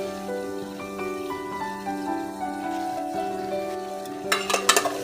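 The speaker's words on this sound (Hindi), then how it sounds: "हम थोड़ा सा और इसको स्पाइसेस के साथ भूनेंगे" Chicken with red chili powder, chili flakes and spices sizzles steadily in a pan, a soft continuous frying hiss under a tonal background hum, with a few brief clinks of stirring near the end.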